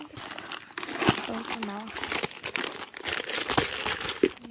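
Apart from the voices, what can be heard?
plastic packaging crinkling while a toy unicorn is unboxed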